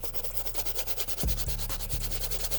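Close, rhythmic rubbing strokes of a soft bristle brush scrubbing grime off dirty white sneakers, a quick repeated back-and-forth scratch with no voices.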